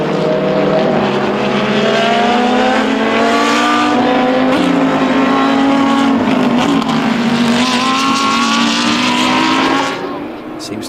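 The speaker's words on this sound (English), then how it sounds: "now the GTX KTM in the hands of Petr Koukola" A GTX KTM race car drives past on a circuit. Its loud, close engine howls and shifts pitch continuously for several seconds under trackside commentary before fading slightly at the end.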